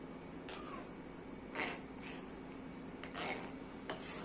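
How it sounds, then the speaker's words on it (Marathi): A spoon scrapes and taps around a pot while milk is stirred and thickened for a mango dessert, faint intermittent clinks over a quiet steady background, no talking. "आपण याला सतत हलवत हलवत आपण हे थोडंसं दाटसर करून घ्यायचं आहे"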